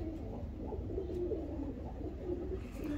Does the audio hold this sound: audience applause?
no